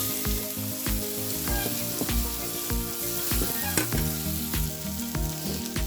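Chili and cumin powder spices fry in a pan with a loud, continuous sizzle, punctuated by regular scraping stirs of a spatula against the metal.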